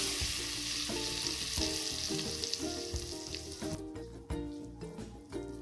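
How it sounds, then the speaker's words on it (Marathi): Hot mustard-seed tempering with asafoetida and turmeric poured over a homemade vada pav chutney, giving a loud, close crackling sizzle that gradually fades and thins out. "मस्तपैकी खमंग झालेली फोडणी आपण चटणीवर ओतणार आहे"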